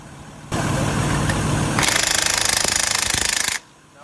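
A DeWalt impact wrench rattles against a nut torqued to around 600, running from a motor whir into a loud, rapid hammering burst that lasts about two seconds before cutting off, close to the listener with no talk.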